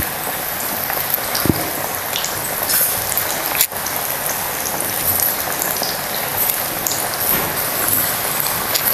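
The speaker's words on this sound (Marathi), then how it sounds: "तर आपण हे सुद्धा चांगलं असं तळून घेऊया." Chicken 65 pieces deep-frying in hot oil, a steady dense crackling sizzle that stays loud and continuous throughout, with an occasional sharper pop.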